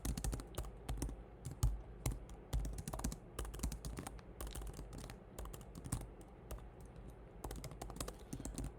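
Rapid, uneven clatter of computer keyboard keys as code is typed, close and continuous with brief pauses, over a quiet room.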